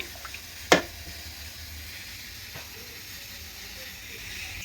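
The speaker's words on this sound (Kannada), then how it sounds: "ಸ್ಟವ್ ಆನ್ ಮಾಡೀನಿ" A kitchen gas stove is switched on while cooking dal: one sharp, close igniter click, followed by a faint, steady hiss under low background noise.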